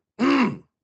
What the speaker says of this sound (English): Clear your throat 4 times before speaking